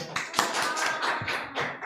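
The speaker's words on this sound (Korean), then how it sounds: "자, 박수 한번 주세요" A short burst of audience clapping at a young adults' Sunday worship service at a church in Seoul: a few uneven, scattered claps, moderately close, with no talking.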